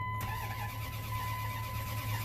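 The engine of a 1998 Dodge Ram 1500 cranks over steadily without firing, a continuous droning starter sound with a constant whine, heard close and moderately loud for the whole stretch.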